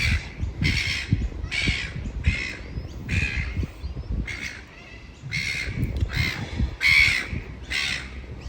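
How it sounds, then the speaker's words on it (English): Crows cawing outdoors in Australian bushland: a series of repeated harsh caws, roughly one or two a second, moderately near, over low wind rumble and rustling. "the birds here are well noisy"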